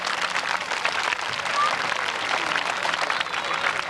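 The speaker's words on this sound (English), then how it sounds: "Can we give them another round of applause?" Guests at a 30th birthday gathering give a round of applause, a steady wash of many hands clapping for about four seconds, with voices faintly mixed in.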